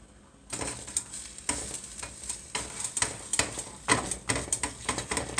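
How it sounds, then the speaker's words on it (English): Eggs fry in a pan and get chopped up with a utensil, a continuous sizzle broken by quick, repeated scraping and tapping strokes against the pan, close and fairly loud. "And just chop those damn eggs up."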